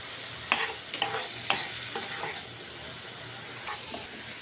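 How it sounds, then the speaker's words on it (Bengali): Shrimp frying with spices in a pan, a continuous sizzle broken by several sharp scraping stirs of a spatula, close and clear. "এখন আমি চিংড়ি মাছটা দিয়ে দিচ্ছি আর চিংড়ি মাছটা মশলার সাথে কষিয়ে নিচ্ছি"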